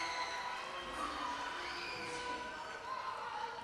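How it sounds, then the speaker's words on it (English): A home crowd at a Niles North Vikings girls' high school basketball game against Lake View cheers and shouts after a made basket, a steady roar of many voices including children, moderately distant in a gym. "The Viking crowd loving the shot."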